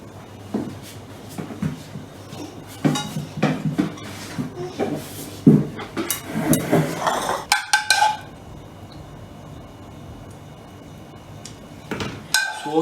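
Plates and cutlery clink and clatter in a kitchen while sandwich-style French toast is plated, a busy run of close knocks and ringing taps, then a pause and a few final clinks.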